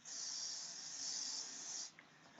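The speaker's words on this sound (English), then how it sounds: "So I'm going to use my hairspray and I'm going to spray along each wave" Hairspray hisses in one steady, close burst for nearly two seconds as it is misted along waves of styled hair, then cuts off into quiet.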